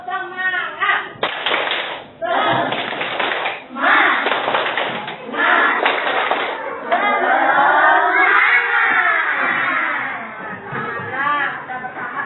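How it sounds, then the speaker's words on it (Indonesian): A group of schoolchildren in a classroom doing a rhythmic spirit clap, with bursts of sharp hand claps mixed with voices chanting along, loud and close, followed by cheering. "Tepuk semangat."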